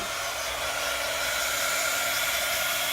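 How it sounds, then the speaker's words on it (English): A heat embossing tool blows hot air over embossing powder on a stamped card, a loud steady whooshing roar held close for a few seconds without talk. "Get my heat tool back out. Turn it on, let it heat up for a second."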